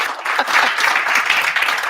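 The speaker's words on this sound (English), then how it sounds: "you can give them a round of applause." Audience applause at a student health event, a steady dense wash of clapping throughout with no pauses.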